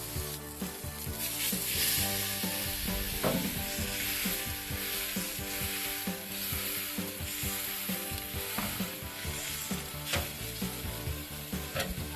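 Steak searing on grill grates at about 500 degrees, a steady loud sizzle and crackle running throughout with scattered pops and no voices.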